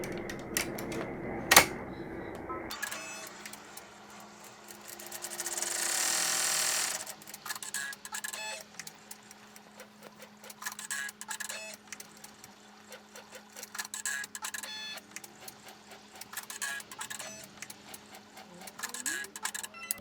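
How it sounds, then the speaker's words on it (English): Embroidery sewing machine stitching a hem line across a tuck envelope card holder, a fast rhythmic ticking and whirring that runs steadily for most of the stretch after a brief clatter and a whoosh at the start. "I'm going to put it back in the machine, and we're going to sew 1 line across the top here"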